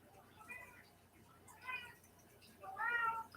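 A pet cat meows three times in a row, each call short and moderately close, with quiet room tone in between and no talking.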